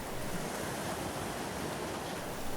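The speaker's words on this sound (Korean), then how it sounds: "가만히 파도 소리를 듣는다" Ocean waves break in a steady, dense wash of surf, loud and continuous with no pauses and no voices.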